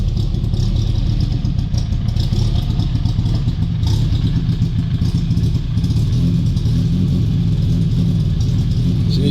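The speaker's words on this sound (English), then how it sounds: "engine sounds alright though" Morris 1100 car engine running steadily, a loud, close rumble with clattering mechanical texture and mild revving throughout, no voices.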